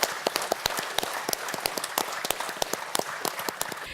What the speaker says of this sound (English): The whole House clapped as he was brought to his seat in Parliament